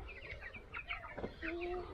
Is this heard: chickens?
yes